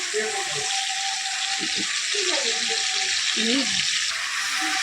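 Vegetarian ghugni frying in a pan, a constant bright sizzle throughout, with a person talking over it.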